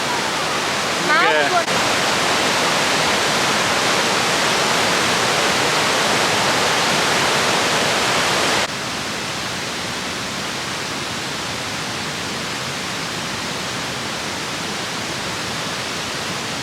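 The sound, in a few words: Ragged Falls waterfall on the Oxtongue River, Canada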